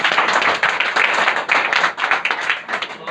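An audience at a morning business seminar breaks into dense, steady applause, many hands clapping loudly and continuously throughout without pause.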